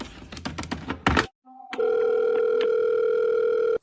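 A steady telephone dial tone hums on and on after a call is cut off. It follows a burst of clicking and tapping at the handset and a brief silence, with no voices over it.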